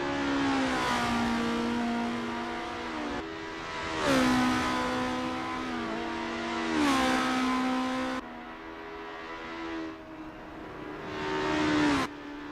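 Race car engines roar in an Assetto Corsa multiplayer race, apparently at Bridgehampton, loud and close, with repeated rising revs that drop sharply at each gear shift, about four pulls in twelve seconds, with no talk.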